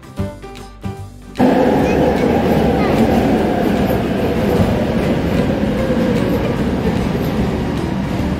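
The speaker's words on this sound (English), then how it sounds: "Another train." A train rumbles past close by in a loud, steady roar with rattling wheels, after a few seconds of brief knocks and quieter sounds at the start.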